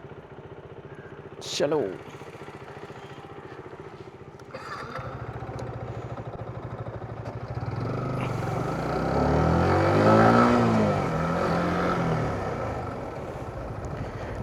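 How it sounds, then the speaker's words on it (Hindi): A motorcycle starts up and rides off on a road trip from Gurgaon to Rishikesh. A brief word is spoken before the engine catches, and then the engine note swells and rises as the bike pulls away, with the rider talking over it. "मैं बाइक स्टार्ट करके"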